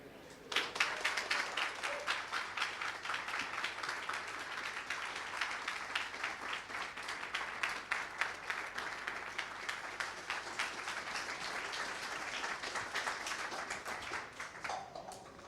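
An audience bursts into sustained applause after a talk on politically neutral networks, a dense, even wash of many clapping hands lasting around fourteen seconds before fading.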